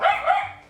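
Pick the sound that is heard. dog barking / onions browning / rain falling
dog barking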